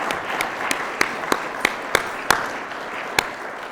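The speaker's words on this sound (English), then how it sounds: "I just would ask for a round of applause for the dedication and the time that these individuals did." Audience applause at an annual meeting and awards dinner for a Main Street organization in Medina: a steady wash of many hands clapping, with a handful of sharper, louder claps standing out at irregular moments.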